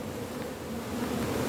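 Honeybees buzz in a dense, continuous drone from an opened production beehive during an inspection, close and steady throughout with no talking.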